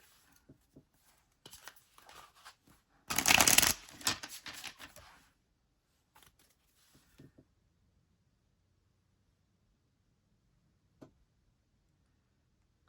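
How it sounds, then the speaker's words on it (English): A deck of tarot cards is shuffled in one brief, dense riffling burst, with scattered soft card taps and handling clicks before and after in an otherwise quiet room. "Let's start slinging cards."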